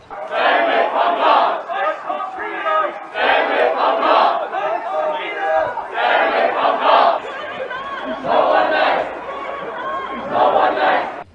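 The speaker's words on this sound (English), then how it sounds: "crowd clad in office attires gathered on the streets of the city's CBD to celebrate the election results" A large street crowd in a city business district, many dressed in office attire, celebrates election results with loud, sustained cheering and shouting that swells in repeated waves over several seconds.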